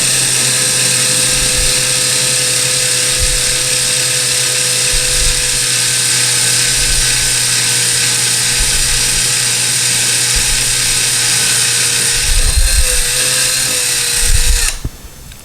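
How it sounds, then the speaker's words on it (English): A power drill bores through a tile wall and the drywall behind it while a towel bar is installed, a loud steady whine held for many seconds, then slowing and stopping at the end. "Be careful as you're drilling, because when you break through the drywall in the back"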